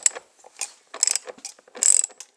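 A ratchet works loose a fuel tank bolt on a 2015 KTM 690R Enduro ABS, giving several short bursts of quick metallic clicks close up, with no talk.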